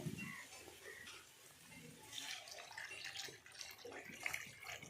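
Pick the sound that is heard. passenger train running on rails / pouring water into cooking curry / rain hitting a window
pouring water into cooking curry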